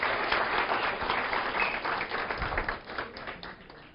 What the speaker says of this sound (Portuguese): gostaríamos de, mais uma vez, aplaudir o nosso palestrante pela sua generosidade